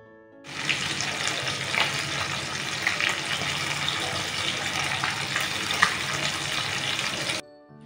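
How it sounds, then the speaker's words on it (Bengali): Pabda fish fries in mustard oil in a pan, a steady close sizzle and crackle that starts abruptly, holds evenly for about seven seconds, then cuts off. "মাছের একটা পিঠ ভাজা হয়ে গেছে, এবার পাল্টে অপর পিঠটাকেও ভেজে নেব।"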